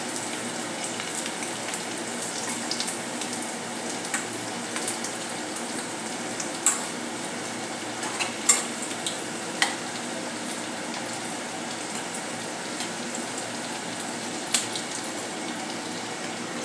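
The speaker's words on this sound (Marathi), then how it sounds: "याला चांगले क्रिस्पी होईपर्यंत, गोल्डन ब्राऊन होतात तोपर्यंत तळायचे आहे" Crunchy snacks deep-frying in hot oil over a low flame make a dense, even bubbling hiss that is constant and fairly loud, with a few brief clinks and crackles rising above it.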